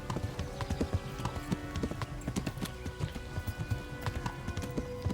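A horse galloping in Kingdom Come: Deliverance, its hooves clip-clopping in a quick, steady rhythm of thudding beats close by, with a faint whinny and no speech over it.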